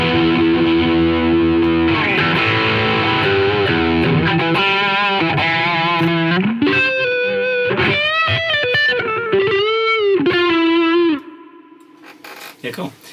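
Electric guitar played through an Analog Man King of Tone overdrive with both sides engaged and the drive turned up, loud sustained distorted chords followed by bending lead notes that cut off abruptly.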